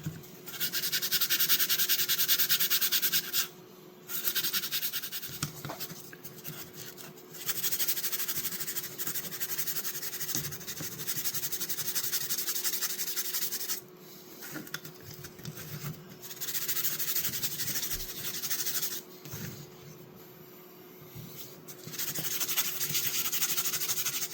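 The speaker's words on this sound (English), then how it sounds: "we'll just give it a light rub to clean it up and shine it up" A rusty jack knife being rubbed clean and shiny, a steady close scraping rub running in long strokes with brief pauses between passes.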